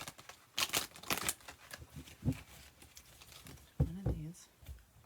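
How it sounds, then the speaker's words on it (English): Tarot cards being shuffled by hand, giving a few quiet crisp riffles and papery rustles in irregular bursts, close but soft, with a voice murmuring briefly near the end. "we're going to do one more shuffle"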